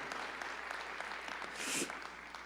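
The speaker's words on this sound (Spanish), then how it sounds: "Dale ese aplauso al Señor." Congregation applauding God at a Spanish-language church service, a short, steady wash of many hands clapping that swells slightly near the end.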